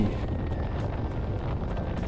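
Strong headwind rushing past during a cycling road race, a dense continuous roar buffeting close to the microphone, with no voices.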